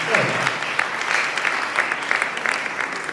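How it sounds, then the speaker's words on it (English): Crowd applause at a community climate change adaptation event, a moderate, continuous patter of many hands heard at some distance, with scattered sharper claps standing out through the room. "You can clap for that state."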